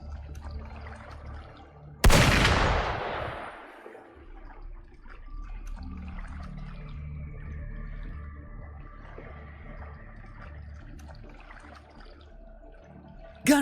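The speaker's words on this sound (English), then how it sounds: "Gunfire!" A sudden loud burst of gunfire erupts in a fantasy video game battle against Tidespawn intruders, a sharp crack followed by a decaying rumble, then low ambient game sounds continue with a brief hit at the very end.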